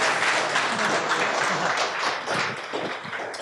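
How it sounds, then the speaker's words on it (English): A school audience gives a warm round of applause for a speaker at a talk, dense steady clapping filling the whole stretch at close, loud level with no voices over it. "kindly give a warm round of applause for Mr. Stephen Preisman"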